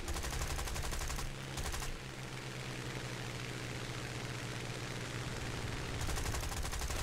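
Aircraft machine guns fire rapid bursts in War Thunder, sustained rattling fusillades at the start and end over a constant engine drone, with a quieter stretch of engine noise between them.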